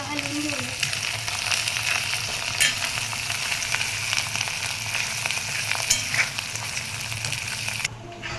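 Cumin seeds and ground masala frying in a pan for a Pahadi aloo potato dish, giving a steady close sizzle with occasional stirring scrapes and a few brief crackles.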